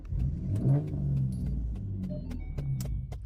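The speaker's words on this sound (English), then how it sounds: "my car make noise when I turn it on" A car engine turning over and revving up with a low rumbling surge, followed by a steady idle with faint clicks and jingles of keys, heard from inside the vehicle.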